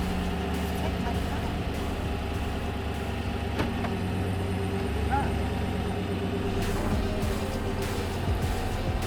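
Truck engine idling and rumbling steadily while being put into reverse, a low continuous drone up close, with people talking over it.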